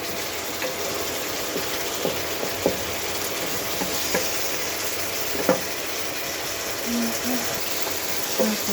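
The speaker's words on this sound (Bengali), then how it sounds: "সুন্দরভাবে ভালোভাবে কষিয়ে নিচ্ছি মাছটা।" Fish sautéing in a pan, a soft continuous sizzle with occasional spatula scrapes and knocks at irregular intervals, fairly quiet and close, with a voice speaking faintly at times.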